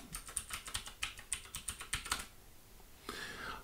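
Keys on a computer keyboard click in a quick, irregular run of light taps while a root password is typed, then fall quiet before a final key press, all faint and close.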